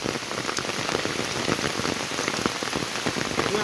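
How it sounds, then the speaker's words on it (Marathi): A torrential downpour drums on the ground along a Konkan road, a loud, unbroken wash of rain that stays even throughout, with no one talking. "किती तुफान पाऊस आला."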